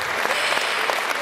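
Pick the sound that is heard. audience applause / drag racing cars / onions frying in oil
audience applause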